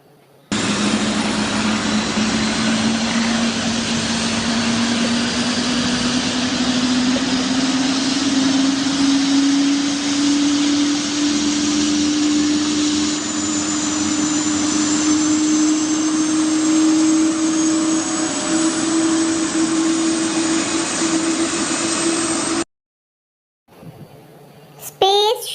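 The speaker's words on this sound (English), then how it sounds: "Helicopter," A helicopter flying overhead, a steady loud whining engine drone with a slowly rising tone held for over twenty seconds, then cut off sharply before a brief spoken word.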